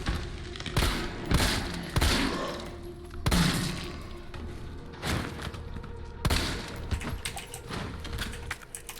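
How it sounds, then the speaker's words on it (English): Shotgun blasts in the Resident Evil video game come as a series of sharp, loud booms spaced a second or two apart, interleaved with clicky mechanical sounds, with no talking. "What about a shotgun?"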